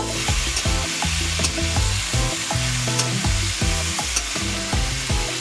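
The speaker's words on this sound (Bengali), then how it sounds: "প্রথমে আমি এই দেখো চিংড়ি মাছগুলোকে ভেজে নেব" Shrimp frying in hot oil in a kadai: a dense, loud, continuous sizzle heard up close, with a low, uneven rumbling texture running beneath it.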